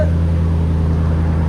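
A 2023 Chevy Silverado 2500HD with a 6.6L V8 and Black Widow Race Venom exhaust, tailpipe cut off, idles steadily, a deep, even rumble held close and loud throughout with no talking.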